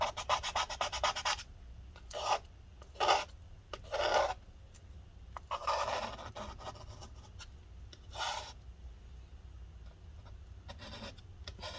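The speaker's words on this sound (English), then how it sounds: "Scrape this up." Scraping adhesive goop off the battery of a 13-inch late-2016 MacBook Pro A1706, a dry rasping rub that comes in short close strokes, strongest early on and then trailing into fainter, sporadic scrapes.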